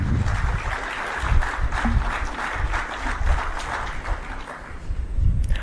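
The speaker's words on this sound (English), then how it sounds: "Please welcome again with a big round of applause." Audience applause fills a hotel hall during an investment conference in Vijayawada, a broad continuous clapping crowd with swells and slight dips, no speech over it.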